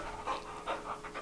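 A dog pants rapidly and rhythmically at close range, with quick breathy puffs in a steady run and no talking.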